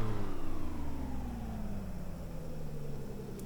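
Car engine revving in the Assetto Corsa racing game on the Hometown track, a steady mid-pitched engine note rising and falling through revs, continuous and close with no talk.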